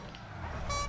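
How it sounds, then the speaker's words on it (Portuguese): A clown car horn sounding in GTA V, a bright tonal honk rising near the end of a brief stretch over steady game and engine noise. "Epa, minha buzininha de palhaço."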